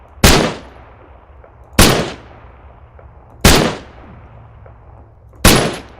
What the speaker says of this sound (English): Sounds like a DMR.